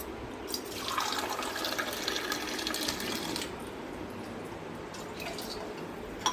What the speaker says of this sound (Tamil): நான் கொஞ்சம் தண்ணி எக்ஸ்ட்ரா தான் ஆட் பண்ணுவேன்